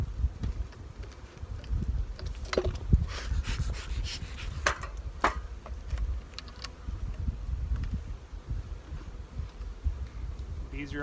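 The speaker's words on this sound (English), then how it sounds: "Beautiful little box of bees there." Honey bees buzz around a hive box holding a small colony, a steady low hum with sharper passes from individual bees flying close, under faint background noise.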